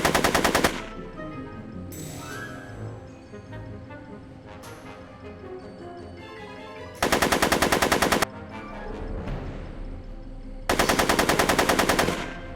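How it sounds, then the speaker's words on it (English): Bursts of machine-gun fire from the Back to the Future video game, three loud sustained volleys separated by quieter stretches of game music and ambience. "Are you shooting at me?"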